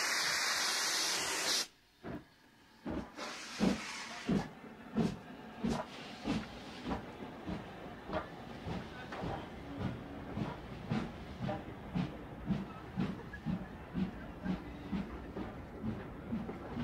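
A steam locomotive on the West Highland Line toward Mallaig in 1985 pulls away with a burst of steam hiss, then settles into a steady chuffing exhaust beat that quickens into a regular rhythm, heard close and loud with no voices.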